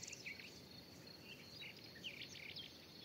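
Faint chirps and trills of birds scattered in the distance over a soft outdoor hiss in a vegetable garden at sunset, calling on and off throughout.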